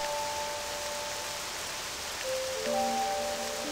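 Rain pours steadily in Octopath Traveler II, an even broadband hiss running throughout beneath quiet sustained music notes.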